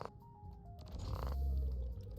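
A creature in the Deep Rock Galactic video game purrs as a low, throaty rumble that swells in the second half after a few thin tonal game sounds, fairly close and with no talk.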